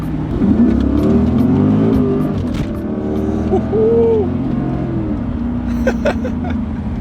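A straight-piped Mercedes CL63 AMG with its naturally aspirated 6.2-liter V8 drones loudly and close up, the engine note holding steady and swelling slightly as it revs.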